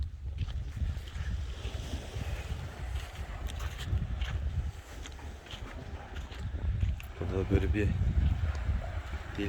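Gusty evening wind at a seaside cove in Çeşme buffets the microphone in a continuous low roar, with faint surf and a brief muffled voice toward the end.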